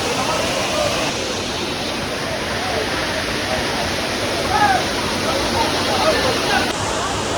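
Water pours down Lihonjar waterfall in Karbi Anglong with a loud, steady, broadband rush that fills the scene, while faint voices of visitors can be heard in the background.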